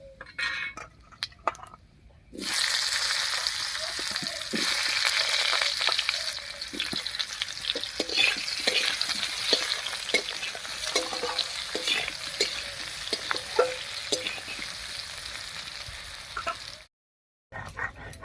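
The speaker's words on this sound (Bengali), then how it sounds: "আলুটা বেশি একটু ভাজা ভাজা মতো হয়ে গেছে" Potatoes frying in mustard oil with bay leaf, dried chilli and cumin, a loud continuous sizzle with repeated scraping stirs of a spatula in the pan, starting abruptly and cutting off near the end.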